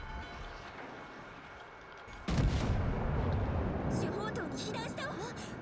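Battleship guns fire in World of Warships Legends: a single loud, close boom hits suddenly and rolls into a long rumbling tail over a low ambient hum.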